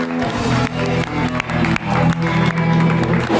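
Studio audience applause on a late-night talk show, clapping from the crowd running under loud music with a steady beat, dense and continuous throughout.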